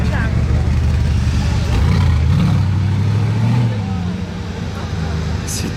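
A car driven by GMK passes along a street in Monaco in the rain, its low engine rumble swelling and fading under someone talking close by.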